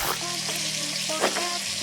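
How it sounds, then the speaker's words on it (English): Oil frying in a pot in the cooking game Venba, a steady close sizzle and crackle with short bright interface chimes over it, no voices. "so we got some frying oil"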